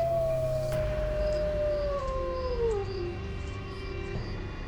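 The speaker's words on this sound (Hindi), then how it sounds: "तभी फिर से कुत्तों के रोने की आवाज आने लगती है" Dogs howling as a sound effect in a Hindi horror story set in a village, one long drawn-out wail sliding slowly downward with a second fainter howl above it, steady and fairly loud over a low background hum.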